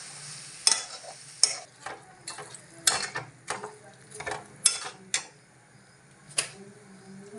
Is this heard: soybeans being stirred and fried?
yes